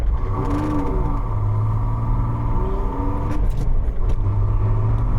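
A Fiero's engine idles roughly, its low drone wavering and stumbling with uneven revs and a faint clatter, steady and close throughout.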